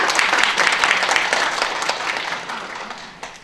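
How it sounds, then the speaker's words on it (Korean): Audience applause at a parents' information session, a dense wash of many hands clapping that gradually fades, with no one speaking. "다시 한번 큰 박수 부탁드리겠습니다"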